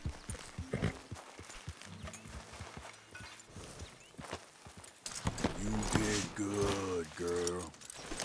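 Horse hooves clop at a slow walk in Red Dead Redemption 2, soft and intermittent under game noise, with someone speaking over the later part.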